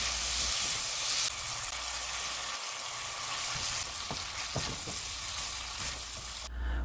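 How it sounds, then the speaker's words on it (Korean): Steady, loud sizzling from a hot pan as octopus in seasoning sauce is stir-fried with onion and cabbage, with occasional soft scrapes and knocks of stirring throughout. "팬에 양파와 양배추를 넣고 볶다가 양파가 투명해지면 양념장에 버무린 문어를 넣고 함께 볶아줘요"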